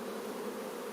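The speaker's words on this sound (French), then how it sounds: "c'est aussi des abeilles type Buckfast" Buckfast honey bees buzz while being moved from a transport nucleus box into a hive at an apiary. The drone is dense, steady and close, with no pauses and no talking.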